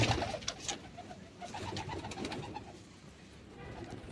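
Pigeons coo repeatedly at a water dish on a farm, their low soft calls faint and fairly distant over a rustling outdoor background, with no speech.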